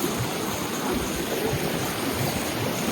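A snowmelt mountain river at Doodhpathri in Kashmir rushes past close by during a river crossing, a steady, dense roar of flowing water that fills the scene without a pause.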